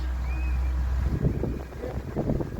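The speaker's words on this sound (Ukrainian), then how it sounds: "Он дивіться, ззаді трактор їде." A large farm tractor working a cultivated field drives past at a distance, giving a steady low engine rumble under wind buffeting on the microphone, with faint voices nearby.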